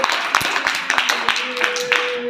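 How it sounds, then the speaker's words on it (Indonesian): Classroom applause for a student group: scattered, uneven claps from a small number of people, close and fairly loud, with a faint steady tone and some background voices. "kasih aplaus untuk kelompok 2"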